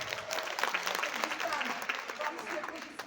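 An audience claps at an anniversary celebration, a steady spread of applause across the whole stretch with a voice or two rising faintly underneath.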